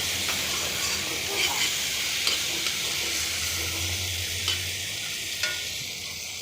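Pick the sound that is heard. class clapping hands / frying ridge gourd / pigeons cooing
frying ridge gourd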